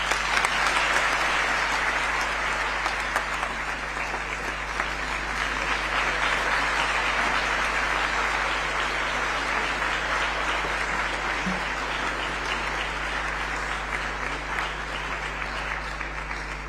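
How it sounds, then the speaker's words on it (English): Sustained applause from a large audience at the opening of the World Health Summit Regional Meeting in Nairobi, a dense, even roar of clapping that holds steady throughout with a low electrical hum beneath. "Another round of applause for His Excellency and all the speakers"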